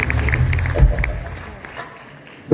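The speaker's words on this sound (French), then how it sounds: "On peut les applaudir tous les trois." An audience at a community evening celebration in Créteil, France, claps briefly in a short burst that quickly thins out, with some crowd murmur underneath.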